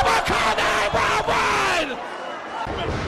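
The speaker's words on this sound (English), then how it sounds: "And listen to this crowd. They're going nuts." Loud wrestling crowd at a 2004 CZW hardcore event roaring and cheering in a dense continuous wall of voices, with yells and whoops rising in bursts before easing slightly toward the end.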